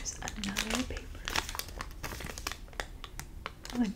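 Paper crinkles while a bag is unpacked, in close, soft, irregular rustles and crackles that come and go under quiet talking.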